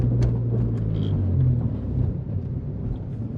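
Honda Civic EK rolling and braking on a bumpy road, with a steady low road rumble and cabin drone that eases slightly as the car slows, close and continuous without talk.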